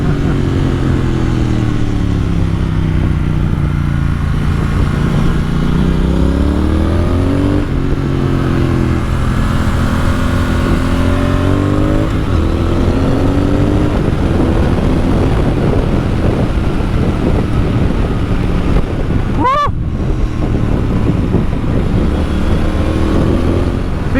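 A 2019 Triumph Speed Twin ridden on the road, its engine note rising and falling through several revs and gear changes, steady and loud under constant wind rush, with no talking.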